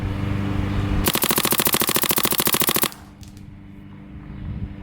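Paintball marker firing a fast burst at about 20 balls per second, fed by a Virtue Spire 4 or Dye Rotor LTR hopper, a dense rapid string of shots lasting about two seconds, loud and close, then stopping.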